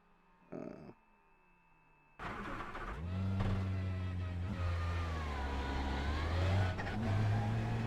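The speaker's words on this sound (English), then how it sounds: "Engine start." A car engine in a racing game cranks and fires up after a short blip and near-silence, then holds a loud, steady rev with rising and falling pitch swells close up. No voices.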